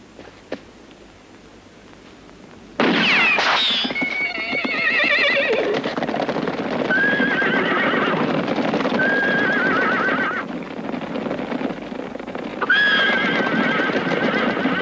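Horses whinny loudly in a western film scene, several drawn-out neighs layered over a continuous clip-clop of hooves and rustling, fairly close and with no talk.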